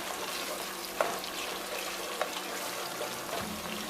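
Onion and tomato puree frying in a pot for a chicken stew, a soft, steady sizzle with a couple of faint clinks from a spoon, quiet and close, without any talk.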